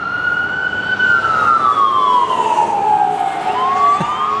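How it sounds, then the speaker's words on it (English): An ambulance siren wails past outside a horror convention, a loud continuous tone sliding slowly down in pitch as the vehicle goes by, with steady traffic rumble underneath. "There goes the ambulance."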